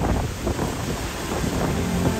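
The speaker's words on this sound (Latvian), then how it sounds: "jūrā ir nereāli lieli viļņi" Large sea waves surge at the Liepāja coast as strong wind buffets the microphone, a steady, loud roar of surf and gusts with no one speaking.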